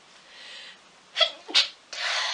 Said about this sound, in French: Je réponds pas parce que j'ai envie d'éternuer en fait.